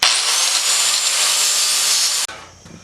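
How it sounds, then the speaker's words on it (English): A power saw bites through a piece of forged metal for a blacksmith-made herb drying rack, a loud, steady, high-pitched cutting whine up close that stops abruptly near the end. "So I'm going to go ahead and cut it off."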